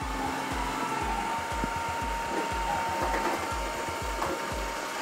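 A Lydsto R1 robot vacuum cleaner runs in mopping mode with a steady mechanical hum and regular low thumping pulses, plus a faint tone, continuous throughout with no speech.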